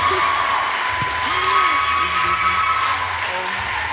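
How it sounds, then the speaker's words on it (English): Applause and scattered cheers from a church audience giving a standing ovation to welcome a speaker, a steady crowd wash with a few whoops rising and falling over a low hum. "with a standing ovation and a round of applause, we want to welcome Errama Arkurst"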